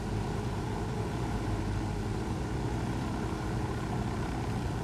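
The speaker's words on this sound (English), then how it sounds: "I'll take the helicopter before you fly up." A steady, continuous helicopter engine drone with rotor-like thrum, constant and fairly loud throughout, in the video game Ghost Recon Wildlands, with no talking.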